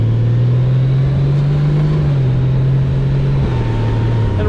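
A Honda Goldwing with a DCT gearbox accelerates, its engine a steady, loud low drone that climbs slightly in pitch and then drops briefly as it shifts, heard close up under wind rush with no voices.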